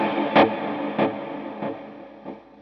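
Four distorted electric guitar chords strike in a slow, even rhythm, each ringing out with thick, saturated overdrive before the next.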